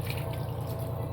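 Water dripping and trickling off homemade paneer as it is rinsed, a brief, close, continuous wet patter with no voices.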